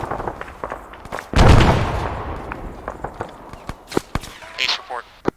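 Frag grenade detonating in a video game during platoon training: one loud, sharp blast with a rumbling decay over a second or two, amid scattered clicks and gunfire-like pops, with radio voices talking before and after.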